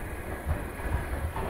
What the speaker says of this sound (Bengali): সবে ট্রেনটা টানটান স্টেশন ছেড়ে যেতে শুরু করেছে